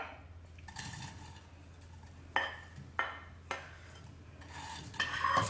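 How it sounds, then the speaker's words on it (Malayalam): Mango pieces stirred into a spice mixture of onion and curry leaves in a pan for a Kerala ripe-mango curry, giving repeated scraping and clinking strokes of a spoon against the pan, close and fairly quiet, with no talking. "അതിനുശേഷം നമുക്കിത് നന്നായിട്ട് മിക്സ് ചെയ്ത് കൊടുക്കാം"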